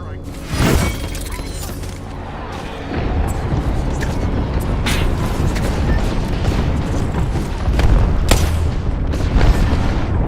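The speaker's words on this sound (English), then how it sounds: "Calling the airstrike." An airstrike rains down in the battle-royale video game Apex Legends, with loud booms and shattering blasts, a sharp hit early, then a sustained roar and several more impacts, while players talk over the chaos.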